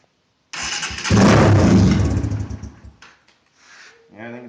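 A low-budget dirt bike build cranks and fires for its first start, running loud and rough for a couple of seconds before cutting out, followed by quieter rustling and a brief voice.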